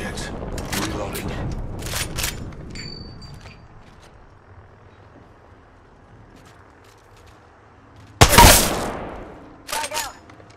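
Gunfire in Apex Legends: after a stretch of busy mixed game sound, one loud, sharp burst of shots lands near the end, followed by a couple of quieter trailing reports.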